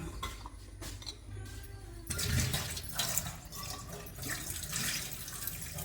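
Well water runs from a tap into a bottle, a steady splashing, gurgling pour close by that swells louder partway through and keeps flowing to the end with no talk.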